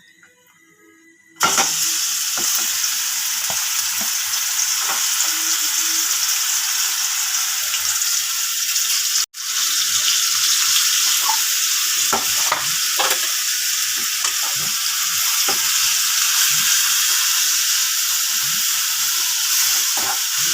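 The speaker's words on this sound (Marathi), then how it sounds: "त्यामध्ये हा किसलेला भोपळा आहे तो मी टाकते" Grated pumpkin hits a hot pan and fries on high heat, giving a loud, continuous sizzle with scattered stirring scrapes, up close and alone.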